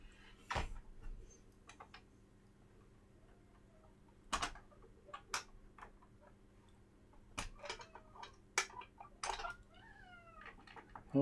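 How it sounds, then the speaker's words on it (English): A cat meows several times in a quiet indoor workbench room, short faint mews scattered among soft clicks and ticking, with a few rising, wavering calls toward the end. "Oh, the cat's come back."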